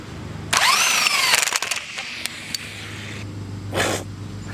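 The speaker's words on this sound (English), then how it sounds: "let's break out the impact wrench. Let's try it." An impact wrench tightens a bead buster in loud short bursts, with a rising whir and a clatter of hammering, then a quieter stretch before one more short burst near the end.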